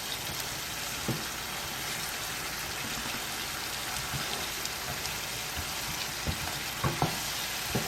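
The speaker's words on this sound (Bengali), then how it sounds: "সবগুলো একসঙ্গে করে আমি ভাজতে দিয়ে দিলাম" Cumin, coriander, chilli, turmeric and Kashmiri chilli powders frying together in a pan, giving a soft, steady low sizzle with a few light stirring taps near the end.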